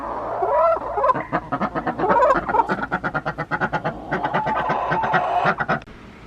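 Chickens and a Pekin duck in a coop make a steady run of clucks and nasal quacks, rapid and rhythmic, fairly close and continuous for several seconds.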